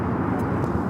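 Air Canada Cargo Boeing 767-300 converted freighter taking off at Los Angeles airport, a loud, steady jet engine roar held for a moment from nearby.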